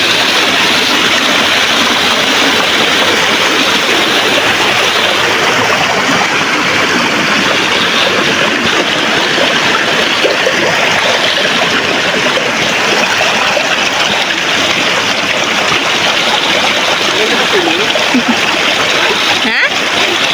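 Rushing water from a hidden river in Linao, Ipilan, fills the scene with a steady broadband roar that stays loud and unbroken throughout, close by and dominating.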